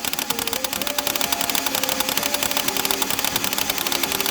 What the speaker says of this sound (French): ça pousse les fléchettes, ni plus ni moins, dans les flywheels